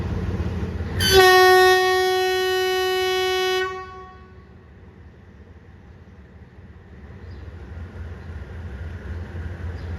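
A GEK diesel locomotive hauling ordinary train 283 at Bangkok's Hua Lamphong station sounds a loud, steady horn blast of about two and a half seconds, then settles into a low engine rumble as it departs.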